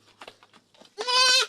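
A goat gives one loud, close, quavering bleat at the end, after a few soft muffled noises.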